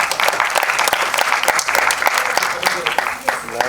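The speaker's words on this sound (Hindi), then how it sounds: "एक बार जोरदार तालियां।" An audience at a debut album launch event claps loudly and continuously, a dense, steady burst of applause with a voice speaking over it.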